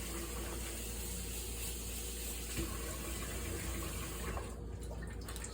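Tap water runs steadily over lettuce being washed in a sink, a continuous close splashing hiss with small shifts as the leaves are handled, without speech.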